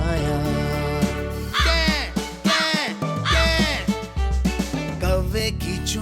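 Crow-like caws repeated in a sung, musical pattern over steady instrumental backing, loud and close, with no speech.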